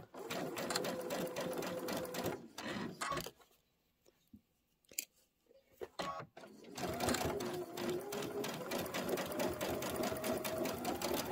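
A sewing machine quilting pinwheel and border blocks on a Kimberbell Candy Corn Quilt Shoppe project, stitching in a fast, steady, close mechanical whir that stops briefly for a few seconds of clicks and handling before running again.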